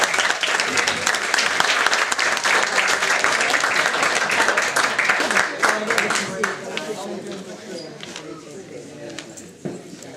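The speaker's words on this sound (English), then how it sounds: "Please give him a round of applause" A town hall crowd in Woodhaven applauds as a councilman is introduced, loud sustained clapping that fades over the final seconds while a few voices carry on underneath.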